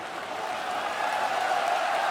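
Basketball arena crowd at a FIBA Asia Championship game between China and Qatar rising to its feet with steady applause and cheering, a broad sustained roar that swells slightly toward the end.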